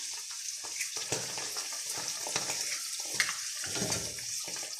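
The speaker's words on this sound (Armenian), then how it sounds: "հիմա ձում եմ ավելացնում, գիտեք, օգտագործում եմ" A homemade egg sizzles in a hot frying pan, a steady crackling hiss with small pops and soft scraping throughout.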